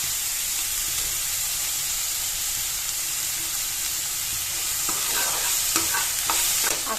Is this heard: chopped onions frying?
yes